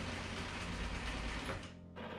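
A sewing machine stitches heavy awning bag fabric for a trailer awning in a dense mechanical whir that runs steadily for about a second and a half, then slows and drops away, picking up briefly again at the end.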